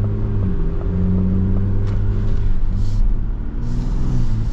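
A Ford Bronco Raptor's engine drones steadily from the cabin while driving, with a continuous low rumble and a few mild rises in revs, loud and constant throughout with no talking.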